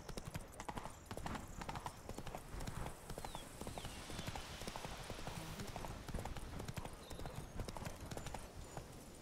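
Hooves of a horse in The Witcher 3 gallop in a rapid, continuous clip-clop rhythm, fairly faint, with ambient game sounds around and a voice briefly in the mix.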